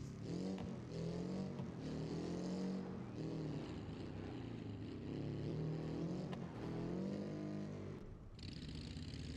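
Video game car engine in an obstacle course race, a loud continuous revving drone rising and falling as the car accelerates, with occasional sharp clicks and a brief dip near the end.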